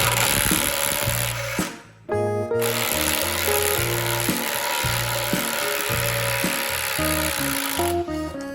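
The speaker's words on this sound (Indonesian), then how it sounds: "Kita minta bantuan Milwaukee untuk membuka bautnya ya guys." A Milwaukee power tool works loose a stuck 15 cm bolt with loud, continuous whirring and grinding that shifts in pitch, broken by one brief stop near the start.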